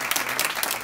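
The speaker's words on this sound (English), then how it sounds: "Let's give a big round of applause." A lecture audience gives a short burst of steady applause, a brief dense patter of many hands clapping together.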